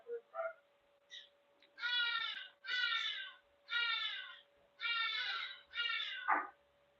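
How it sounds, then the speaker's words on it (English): A cat meows repeatedly in five drawn-out, fairly loud calls with short gaps, preceded by a couple of softer chirps, over a steady faint electrical hum. "I think it's the cat."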